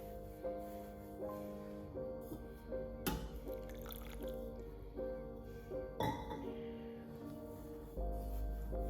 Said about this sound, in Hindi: उसमें इतना पानी डालिए कि वो बाल पूरे कवर हो जाए।